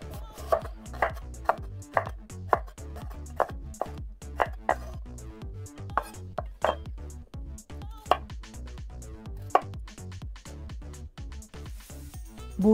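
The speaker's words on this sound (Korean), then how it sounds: "당근도 계란의 크기로 채 썰어 놓습니다." A knife julienning carrots on a cutting board, a brisk, steady run of sharp, close chops repeating for over twelve seconds with no voices.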